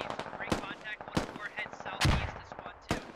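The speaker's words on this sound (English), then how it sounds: "You're hearing the MG3 there from a little." MG3 machine gun fire in the tactical shooter game Squad, heard as several sharp loud bursts spaced through a few seconds, with a heavier, boomier burst near the middle.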